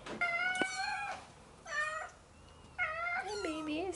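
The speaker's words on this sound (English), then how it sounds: "We go check on the kittens." Kittens meowing indoors near their food and water, with several high, clear mewing calls in separate bursts, fairly close and loud and separated by short quiet gaps.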